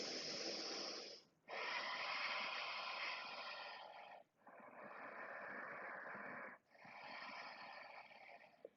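Slow, deep yoga breaths, inhales and exhales alternating in long airy strokes of about three seconds each, close and steady with brief pauses between, no talking.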